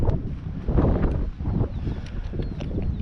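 Steady wind on a high country hike rushes and buffets the microphone in low, uneven gusts, loud and close throughout with no talking.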